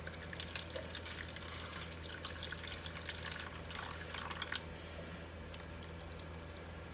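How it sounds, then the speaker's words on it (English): Water trickles and splashes as it is added to an egg incubator during hatch preparation for chicks, a steady wet pattering that runs for several seconds before easing off, heard alone without talk. "I'm going to also add a little more water so it's nice and humid inside of here."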